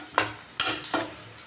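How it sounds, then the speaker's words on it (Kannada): Onions frying in a pan give a low sizzle, cut by three or four sharp scraping stirs in quick succession, close and fairly loud. "ನೆಕ್ಸ್ಟ್ ಇಲ್ಲಿ ಫ್ರೈ ಆಗಿದೆ ಈರುಳ್ಳಿ"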